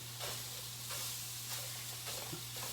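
Sausage sizzles and fries in a pan, a steady close hiss with periodic bursts as it is stirred and mashed, with no one talking.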